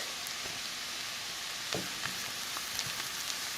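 Garlic sizzling in a pan with onions, with a continuous close crackle and hiss and a few light clinks and taps of a utensil stirring, no talking.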